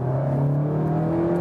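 A Seat Leon Cupra engine hums and rises steadily in pitch, a smooth continuous drone as the car accelerates hard, heard close from inside.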